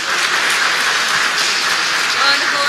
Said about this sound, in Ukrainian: Наші оплески.